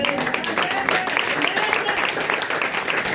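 Church congregation clapping and cheering in praise of Jesus during a worship service, a dense, steady wash of applause with voices mixed in throughout.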